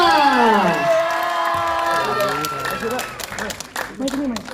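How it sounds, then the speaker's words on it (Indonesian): An audience at a press conference for the film Kado Untuk Ibu applauds and cheers for an actress, a loud, dense crowd burst that starts at once and runs under a voice speaking over it. "tepuk tangan untuk Mbak Zaya Amalia"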